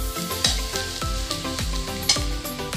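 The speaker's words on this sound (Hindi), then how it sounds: "अभी हम इसमें डाल रहे हैं क्रश्ड जिंजर और क्रश्ड गार्लिक" Crushed ginger and garlic, about an inch of ginger and four cloves, frying in a pan for a malai kofta gravy. A steady close sizzle runs throughout with repeated stirring scrapes, and faint tonal music sits underneath.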